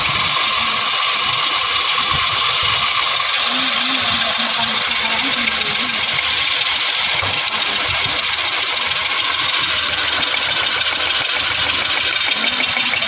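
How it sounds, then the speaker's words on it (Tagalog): Loud 2015 Honda City engine running continuously with a loose ignition coil connection, a rough, uneven idle with a constant droning hum and no voices. "Ngayon po yung andar ng makina."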